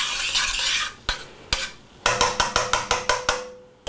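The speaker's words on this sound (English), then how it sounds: "Let's give it a little stir." A utensil stirs shallot in melting butter in a hot pan, with a soft sizzle and a quick series of sharp scraping strokes.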